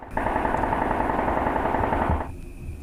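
A sustained burst of rapid automatic rifle fire aimed at a drone rattles loudly for about two seconds, then cuts off into quieter background noise.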